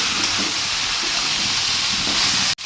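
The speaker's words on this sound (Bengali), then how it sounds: "এবার ভালো করে আবারও আলুর সঙ্গে এই সোয়াবিনটাকে একটু ভালো করে কষিয়ে নেব।" Soya chunks and potatoes sizzle while being sautéed in a pan for a Bengali meat-style curry, a steady, close hiss that cuts off abruptly at the end.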